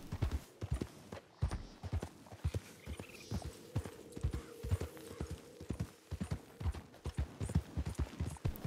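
Horse hooves clip-clop steadily in Red Dead Redemption 2, a quick, even rhythm of close, distinct hoofbeats at a trot throughout, with no talking.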